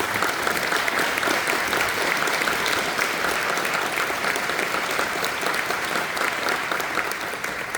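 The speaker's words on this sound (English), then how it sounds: "I'll give you a round of applause." A room full of people at a patriotic community evening gives veterans a loud, sustained round of applause, dense and even throughout without a break.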